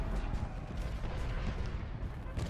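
Cannon artillery fire in the Civil War battle video game Ultimate General: Gettysburg, a dense rumbling barrage of overlapping booms and thuds, loud and continuous throughout.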